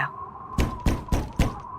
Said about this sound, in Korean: 똑똑똑 밖에서 문을 두드리는 소리가 났어요.